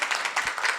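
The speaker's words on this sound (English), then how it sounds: "Can we get another round of applause for our panelists and our moderator?" Audience at a human rights commission panel gives a round of applause for the panelists and moderator, a dense, even wash of many hands clapping, with no voices.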